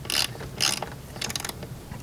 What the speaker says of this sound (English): Now that they're near the bottom, I'm going to take my ratchet and get them on.